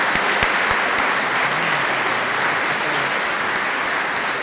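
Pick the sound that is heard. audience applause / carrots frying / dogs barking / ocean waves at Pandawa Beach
audience applause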